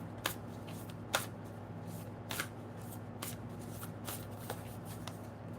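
Astrology cards are shuffled in quiet, soft riffling bursts and flicks over a steady low background hum, fairly close and faint.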